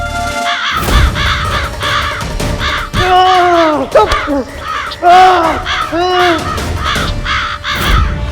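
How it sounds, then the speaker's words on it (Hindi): Several crows cawing repeatedly in rough bursts, loud and close, with harsh calls overlapping across the stretch and a little background noise between them. "फिर से कौवे नहीं"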